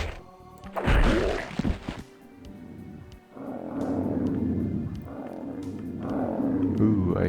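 A monster in Heretic/Hexen lets out deep, rough grunts and growls, a sharp burst early followed by sustained rumbling snarls in repeated waves, fairly loud and close.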